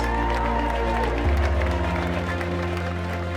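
Spectators at the UCI Gran Fondo World Championships applaud cyclist Matilda Reynolds, crowd clapping and cheering mixed with a loud low hum and music-like tones in the background.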